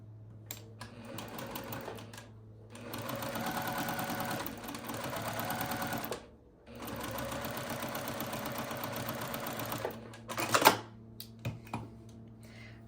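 A sewing machine stitches a quilt block seam in two long steady runs separated by a brief pause, close and mechanical, followed by a few short clicks and bursts as it stops.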